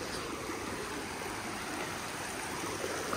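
Fresh water flowing in an outdoor stream along a hiking spot, a steady, close rushing wash with no pauses and no voices.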